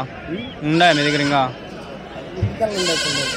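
Goats at the Kadiri Tuesday market let out two loud, quavering bleats, one long and near, then a second after a short pause, over low crowd chatter and market bustle.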